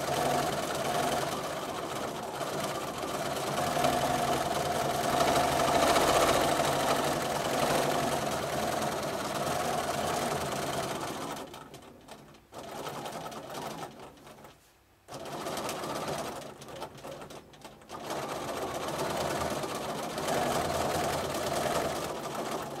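A sewing machine runs steadily while free-motion quilting spirals, a continuous loud mechanical hum with brief pauses and slowdowns near the end as the quilter repositions the fabric.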